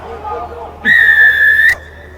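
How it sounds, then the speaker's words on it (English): A rugby referee's whistle during an under-20 international match, one sharp loud blast of about a second cutting through low crowd and commentary background. "Loud blasting the whistle by the referee."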